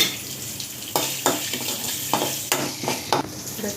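Curry leaves crackle and sizzle in hot tempering oil for an okra chutney, loud and close, with steady frying hiss broken by sharp bursts of stirring and spattering, no voices.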